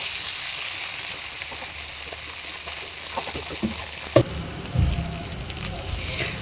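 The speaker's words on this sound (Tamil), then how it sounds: "ஃபஸ்ட்டு ஒரு மீடியம் சைஸ் தோசை ஊற்றிடலாம்." Dosa batter for a masala egg dosa sizzles on a hot pan with a steady close crackle throughout, and a voice speaks over it.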